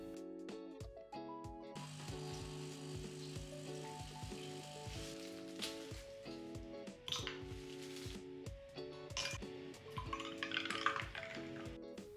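Spoon stirring coconut yogurt mixed with a little plant protein in a bowl, a steady run of soft scraping and clinking strokes against a sustained tonal background, close and moderately loud.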